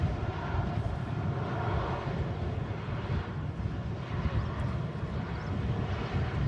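A Ryanair airliner touches down at Manchester Airport on a windy day, a steady broad roar of jet engines and rushing air that holds at a constant level throughout, with no speech.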